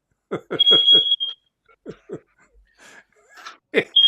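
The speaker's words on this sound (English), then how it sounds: "It's a fire alarm going on." A household smoke alarm lets out short, high beeps in bursts between rapid thumping and rustling noises nearby.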